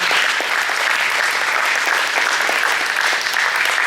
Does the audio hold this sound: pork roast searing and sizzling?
no